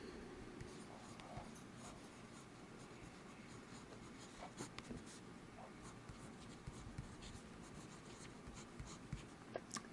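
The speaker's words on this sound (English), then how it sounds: "This nib, it's a gold nib, 18K nib, broad, and it just glides across the paper." A fountain pen with a broad 18K gold nib scratches and glides across paper in close, quiet, continuous strokes with small irregular ticks, and no talking.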